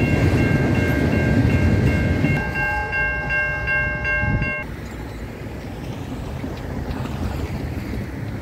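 A freight train passes on a railway line, a loud continuous rumble with sustained horn-like tones that cut off midway, leaving a steady roaring pass with no talking.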